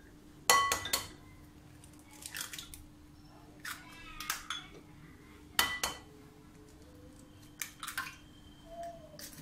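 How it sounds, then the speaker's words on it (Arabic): Six eggs being cracked against a bowl and beaten: close, bright clinks and taps that come in scattered clusters, with faint rustling and a low background hum between them. "غادي نهرس 6 البيضات كاملين"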